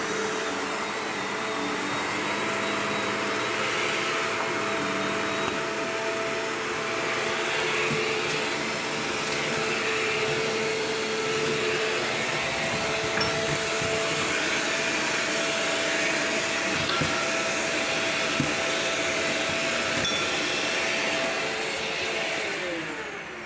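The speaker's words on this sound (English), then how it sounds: "It's not such a terrible little vacuum" A Shark Rotator vacuum cleaner runs steadily indoors, producing a constant, close whirring motor drone with a high whine that holds for over twenty seconds without pause.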